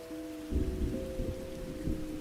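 A rain ambience track plays as a soft, steady patter of rainfall with low rumbling swells like distant thunder, quiet and continuous with no voices.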